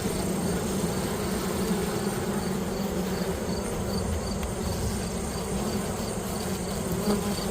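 Many honeybees buzz steadily around honey-covered wax cappings lying in gravel on a beekeeping farm, a continuous dense outdoor hum that holds even throughout.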